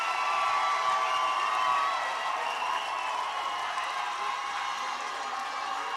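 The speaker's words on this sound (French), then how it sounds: "Applaudissez, mesdames et messieurs" Crowd applause at an outdoor rally in Paris, a steady, distant wash of clapping with faint cheering that holds evenly for several seconds without fading.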